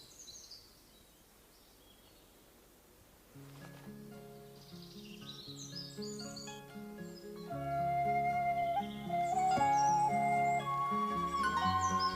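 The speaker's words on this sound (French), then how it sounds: "Vous entendez les oiseaux?" Birds chirp faintly outdoors, with scattered high calls mixed among sustained musical tones that swell louder in the second half.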